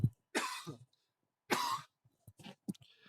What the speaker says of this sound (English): Uh-oh, I'm gonna cough.